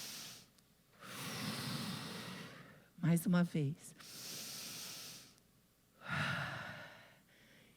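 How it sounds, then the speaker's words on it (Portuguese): Slow, deep breaths drawn in and let out audibly, long airy inhales and exhales close to the microphone, with a short spoken phrase between them. "Queria convidar você para respirar bem fundo"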